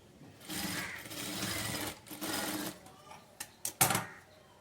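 A sewing machine stitches a blouse hem folded over by one inch in two sustained runs, followed by a few quick, sharp stop-start bursts of needle clatter.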